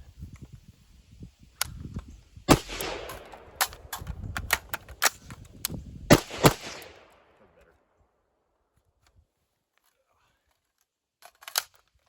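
Pistol shots fired during a reload drill, a quick string of sharp, loud reports with a brief pause, then a pair of fainter shots after a few seconds of quiet.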